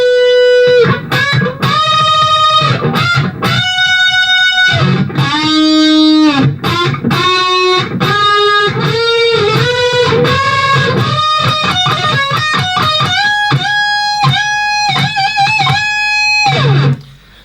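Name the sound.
electric guitar solo from a song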